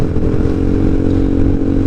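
Motorcycle ridden along a quiet road around the eastern ring of Jatigede, with a steady close engine drone, road rumble and faint clatter running continuously throughout, no voices.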